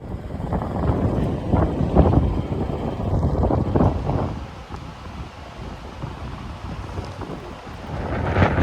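Strong winter storm wind gusts across the Pontcysyllte Aqueduct on the Llangollen Canal, a loud, continuous roar with heavy buffeting against the microphone.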